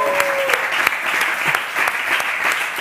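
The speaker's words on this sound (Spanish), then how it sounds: "Un aplauso." Studio audience at a Spanish talk show dinner set breaks into applause, a steady dense wash of clapping with a few sharper claps, close and loud, with no talk over it.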